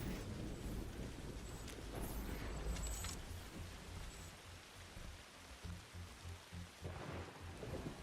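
A violent thunderstorm in The Riftbreaker sends a heavy, continuous rush of rain with deep rumbling thunder rolling underneath, loud and steady with no voices.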